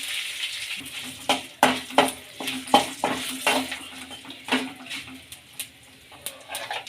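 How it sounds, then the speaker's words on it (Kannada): Curry leaves and Byadagi chillies are added to a pan and stirred, producing a series of sharp spatula-on-metal knocks and scrapes over a faint low sizzle. "ಈಗ ಹಿಂಗೆ ಹಾಕ್ಕೊಳ್ಳೋಣ ಕರ್ಬೇವಿನ ಸೊಪ್ಪು ಬ್ಯಾಡಿಗೆ ಮೆಣಸಿನ್ಕಾಯಿ"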